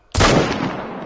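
A single sharp, loud gunshot from a hunting video game cracks out at close range and then decays in a long rolling echo.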